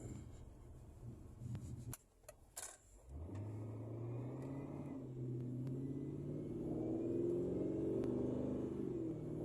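A Mercedes C55 AMG with a 722.6 automatic transmission fitted with a valve body from a C180 drives along. A low engine rumble climbs and drops in pitch through gear changes, with a brief clunk and rustle early on.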